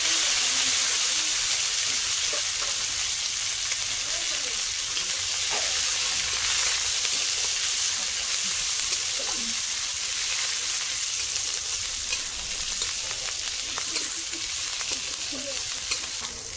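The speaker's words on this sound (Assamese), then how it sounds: "মোৰ এতিয়া পিঁয়াজ নহৰু জলকীয়া ভজা হৈ গ'ল" Green chillies, onion and garlic frying in oil in a pan for an Assamese fish and cucumber curry, a continuous loud close sizzle with occasional stirring scrapes and spits, no voices.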